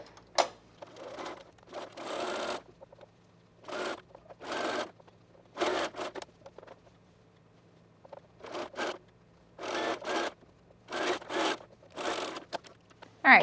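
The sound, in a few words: sewing machine sewing a dress seam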